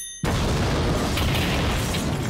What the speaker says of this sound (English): it's a massive bang from the butane cylinder, sending a scorching ball of flame outwards and leaving the oven seriously messed up.